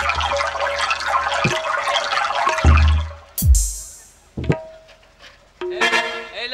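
Water from a hand pump in an open field, with repeated splashing and gushing of liquid that comes in bursts of varying loudness and includes a few sharp knocks and drops.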